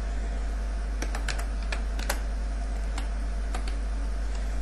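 Typing on a computer keyboard, a quick run of sharp clicks and key taps spread irregularly over a few seconds, close and clear against a steady low hum, with no talk.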